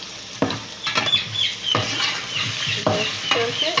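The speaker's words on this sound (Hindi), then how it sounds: "अब इसमें मैं डालूँगी जो हमारी ब्लैक पेपर है, काली मिर्च, वो इसको मिक्स करूँगी" Golden fried onions stirred with black pepper in a pan, giving several distinct scraping stir strokes over a steady sizzle, close and fairly loud, with no talking.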